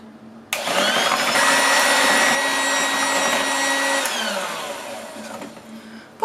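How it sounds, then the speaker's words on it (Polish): An electric hand mixer whirs steadily through gingerbread batter, a loud sustained motor drone with a slight pitch drop toward the end before cutting off. "I miksujemy na, zaczynając od najmniejszych do największych y, obrotów, tak żeby nam się wszystko ładnie połączyło"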